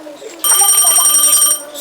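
A telephone rings with a single electronic trill burst lasting about a second, loud and close, amid a quiet indoor background.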